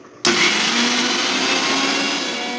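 A mixer grinder bursts into a loud, steady whir while grinding sesame chutney, running continuously at close range after a quiet start.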